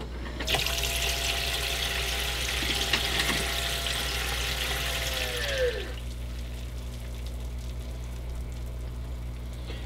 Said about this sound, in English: There you can see it pumped in about maybe a cup or 2 of water